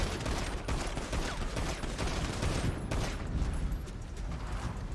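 Rapid bursts of gunfire in a GTA roleplay game session, dense and continuous volleys filling the whole stretch with sharp cracks layered over one another.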